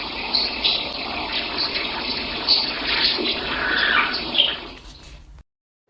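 Water runs and gushes steadily at a fairly loud level with splashing swells, then stops abruptly near the end, followed by silence.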